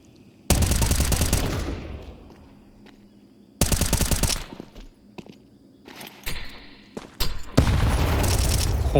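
A grenade explosion in a Counter-Strike match during an ESL Challenger League game, set among loud bursts of gunfire and impacts, with several heavy blasts separated by quieter moments and some footsteps.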